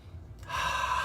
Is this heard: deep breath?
yes